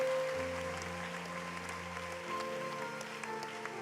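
A church congregation at a prophetic service in Guadeloupe applauds as someone approaches, with fairly faint, steady clapping over held keyboard-like tones.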